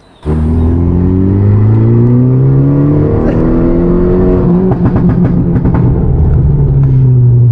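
A Skoda Fabia starts up and revs hard, its engine note rising in sweeps, and then a rapid string of sharp exhaust pops and bangs crackles over the loud, close rumble.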